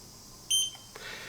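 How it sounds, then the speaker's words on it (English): A handheld gas leak detector gives a short, high electronic beep after its calibration in a quiet home, followed by a faint click. "Okay, so that just beeped twice. That means it's calibrated and ready to go."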